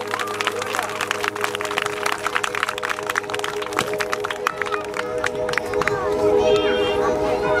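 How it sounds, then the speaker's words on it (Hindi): A church congregation claps loudly during a service, a dense, steady patter of many hands with crowd noise that swells toward the end, while a speaker's voice carries over it. "जोर से ताली जाएंगे परमेश्वर के नाम में।"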